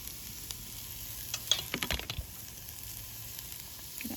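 Onion and carrots sizzling in a hot Dutch oven over a Solo Stove: a faint, steady frying hiss with a short burst of louder crackling and stirring in the middle.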